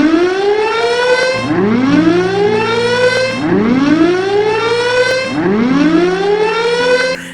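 Members of a Spartans team on a sports field imitate a siren with their voices, four loud rising-and-falling wails in a steady repeating cycle, close and strong.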